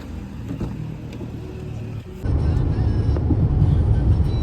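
A car approaches, its low engine rumble steady at first and then growing suddenly louder and closer halfway through, a continuous drone at moderate level.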